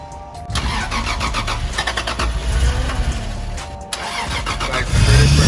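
A Toyota Supra engine cranks and catches on its first start, then runs roughly at a loud, close idle with uneven pulsing and a brief dip before rising again.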